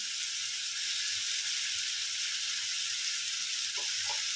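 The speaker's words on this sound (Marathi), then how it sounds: "थोडंसं परतलं गेलं की त्यामध्ये थोडासा बटाटा टाकून घेऊया" Potato sautéing in a pan, a steady, even sizzle of hot oil with a constant hiss throughout, fairly close and unbroken, with a faint stir or two near the end and no voices.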